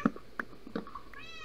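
Cat in the Minecraft video game giving a few short meows in quick succession, fairly close and clear, followed by a brief rising tonal chime.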